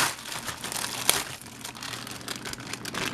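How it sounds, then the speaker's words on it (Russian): A plastic packet holding a Hachette magazine collection issue crinkles and rustles continuously as it is opened close up, with one sharp tearing snap partway through. "Открываем пакетик и знакомимся с содержимым этого выпуска."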